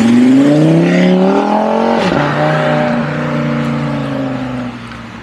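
Tuned Audi RS3 with a five-cylinder engine revs loudly up close, a rough, growling note climbing and then easing down as the revs settle over several seconds.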